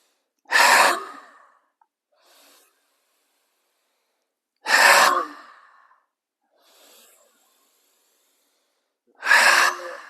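Three forceful, breathy exhalations with the tongue stuck out during a breathing exercise, each a loud whooshing burst separated by long silent pauses and soft in-breaths.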